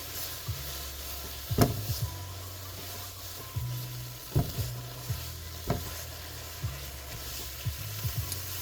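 Sapporo Ichiban instant chow mein noodles sizzle steadily in a wide skillet, with the loud continuous frying broken by occasional scrapes and clacks of stirring and no talk.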